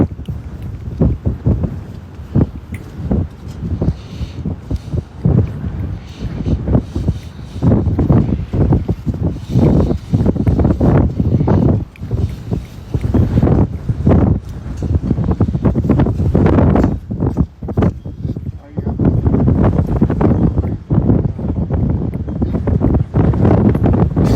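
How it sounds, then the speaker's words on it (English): Strong wind buffeting the microphone outdoors at a horse arena in the UK, in loud, continuous rumbling gusts that barely let up throughout. "Yeah, windy day here."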